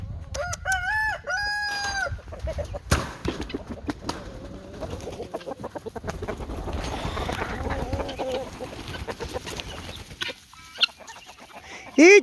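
A homestead rooster lets out loud crows near the start, then chickens cluck and murmur steadily nearby, with a few sharp knocks and a sudden loud clatter at the very end.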